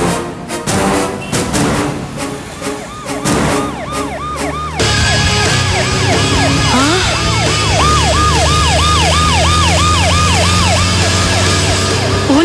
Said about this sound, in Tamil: போலீஸ் வண்டி வருது.